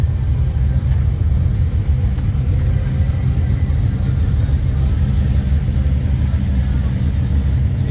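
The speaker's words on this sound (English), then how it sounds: "I just want to listen to that Bel Air, actually." A Chevrolet Bel Air at an antique car and truck show runs with a loud, steady low-pitched engine rumble close by, holding the same level throughout with no voices.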